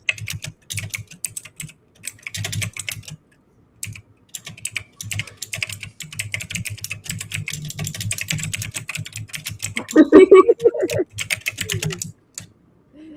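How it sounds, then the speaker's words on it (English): Fast, hard typing on a computer keyboard, close and loud, in dense bursts of sharp key clicks separated by brief pauses. A short stretch of voices cuts in near the end. "You were typing so hard."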